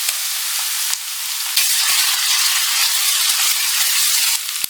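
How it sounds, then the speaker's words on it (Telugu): Ginger garlic paste frying with browned onions in a pan for a palak chicken curry, giving a loud, steady sizzle with a few soft stirring clicks throughout. "అల్లం వెల్లుల్లి పేస్ట్ కొంచెం వేగిన తర్వాత"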